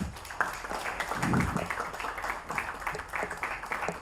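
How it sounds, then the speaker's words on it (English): Audience applause after a call to welcome two guests to their seats at an IIT Hyderabad research and development event, a dense steady patter of many hands with a brief low thump near the start and no talk. "Can we have a round of applause?"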